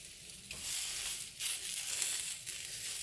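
Tomatoes and chilies roasting in a pan give off a steady, fairly quiet hissing sizzle with faint crackles, rising and easing slightly as the pieces are turned.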